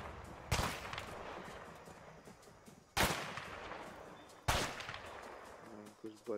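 Three loud, sharp gunshots ring out a couple of seconds apart in the co-op video game A Way Out, each followed by a short decay over a low background.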